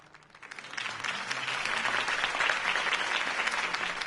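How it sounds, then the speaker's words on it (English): Crowd applause swells after a campaign speech in a video game, a dense wash of clapping that builds within the first second and then holds steady and loud to the end. "If only Mr. Wayne, my campaign's largest backer, could have heard that applause"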